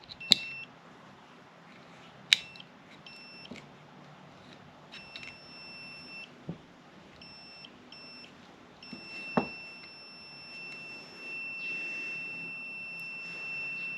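A multimeter gives repeated high, steady continuity beeps, some short and some held, while its probes test the gear indicator and neutral safety switch pins of a Lexus LS400 in a quiet space, with occasional sharp clicks from the probes.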